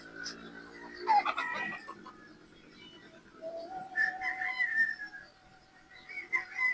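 A gamecock rooster calls nearby in drawn-out, strained crows and cackles, with a few other fowl sounds between the calls.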